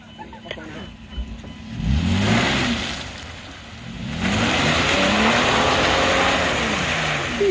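A car on a trail spins its tires with the engine revving hard in repeated rising surges, loud and close, while people shout over it.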